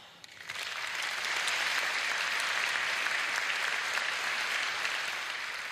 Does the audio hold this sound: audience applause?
yes